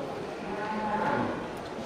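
A local cow held for sale at a cattle market gives a low, drawn-out moo amid steady background crowd noise.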